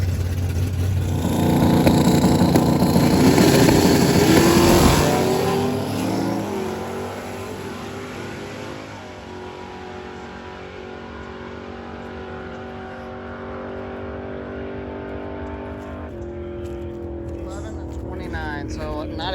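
The Dirt Nasty Nova, a drag racing car chasing 8-second passes during drag week, roars loudly at launch for a few seconds, then its engine note recedes into a long droning run down the strip as it pulls away.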